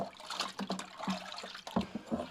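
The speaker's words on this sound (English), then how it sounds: "So now, just stirring that up, just making sure it's all nicely dissolved through." Beer extract brew is stirred in a Fermzilla conical fermenter to dissolve it, giving faint sloshing and swirling liquid sounds with a few splashy surges, close by and without speech.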